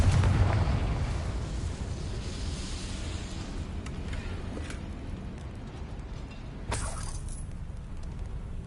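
A booming blast from the Confringo spell in a video game, with a loud rumbling burst at the start that slowly decays, followed by a sharp second crack and pop later on.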